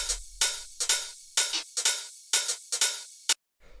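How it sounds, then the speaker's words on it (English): Hi-hats in a classic Detroit house beat tick out a bright, crisp, syncopated pattern of about a dozen close hits, some in quick pairs, then stop abruptly. "these hi-hats, which sound like this"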